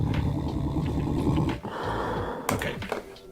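Monster growl effect for a game, a rough, doglike snarling growl with breathy panting texture, continuous and close for about three seconds, with a brief dip midway and sharper bursts near the end, no talk.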